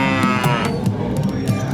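A cow moos in a long, drawn-out, wavering call over an animated children's mountain tale, with music and other sounds running beneath it throughout.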